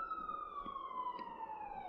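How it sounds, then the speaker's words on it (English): A wailing siren sweeps steadily downward in pitch for nearly two seconds, clear and fairly prominent, with faint background rumble and no talk. "Fucking sirens."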